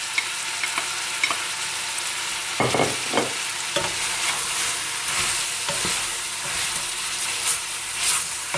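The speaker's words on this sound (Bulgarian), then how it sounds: "Към запърженото месо прибавяме лука да се запържи и той." Meat and chopped onion fry together in a pan with a dense, constant sizzle and hiss. Occasional scrapes and knocks come from stirring, close up and with no talk.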